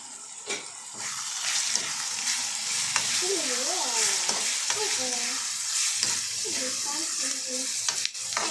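Onions fry with salt in a hot pan, a steady close sizzle with occasional stirring scrapes running throughout, and a brief faint tonal sound over the middle.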